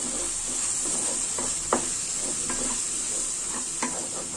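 Chili powder and coriander powder are stirred in a hot frying pan, with a constant bright sizzle and a few soft scraping strokes of the spoon, near and without voices.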